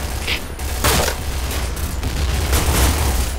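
In a video game, dense bursts of gunfire and booming blasts roll together, with a grenade explosion among them. The sound is loud and continuous, with no break in the noise.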